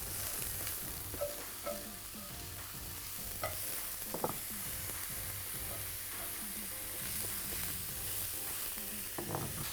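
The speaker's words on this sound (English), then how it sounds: "Mushrooms are getting added straight away. We'll keep moving around the pan." Oyster mushrooms and garlic fry in a hot pan, a steady sizzle broken by frequent scraping and clinking stirs of a utensil against the pan, close and fairly loud throughout with no voices.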